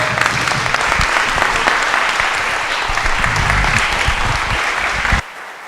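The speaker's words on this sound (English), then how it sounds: "you deserve a round of applause from all of us" A congregation gives a round of applause at a Unitarian Universalist annual meeting, a dense sustained clapping from many hands that stops abruptly near the end.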